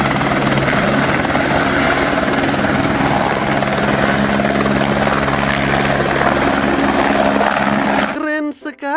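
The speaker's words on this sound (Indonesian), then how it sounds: "Ini pesawat helikopter." Continuous whirring toy helicopter rotor noise, loud and steady with a humming tone, then cut off as a voice speaks at the end.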